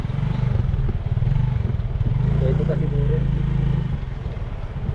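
A motorcycle engine hums steadily at close range while riding through city traffic, loud and continuous throughout, with someone talking over it.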